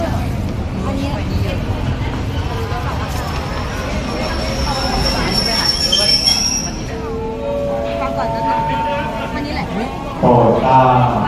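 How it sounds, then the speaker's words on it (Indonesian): A passenger train running between Nong Khai and Bangkok rolls past on the rails with a rumbling roar, high metallic wheel squeals rising midway, and a station announcement beginning near the end amid background crowd chatter. "Dan ini adalah penampakan kereta apinya."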